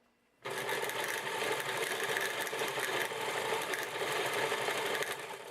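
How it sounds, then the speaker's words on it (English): A sewing machine runs a steady top stitch on a dress, a loud continuous whirring hum that starts abruptly and holds evenly for several seconds with no talking. "and you just do a simple top stitch."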